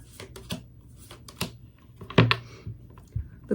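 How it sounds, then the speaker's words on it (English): Tarot cards are shuffled and pulled during a reading, giving soft, quick, close clicks and riffles in irregular bursts with short pauses and no talking. "Let me pull some cards from the universe."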